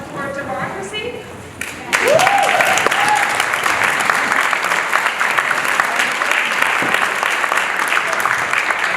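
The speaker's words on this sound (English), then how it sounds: "Maybe we could all just do a round of applause for democracy." An audience at a Yukon candidates' debate on immigration bursts into a round of applause after a brief moment of speech. The dense, steady clapping stays loud and continuous to the end.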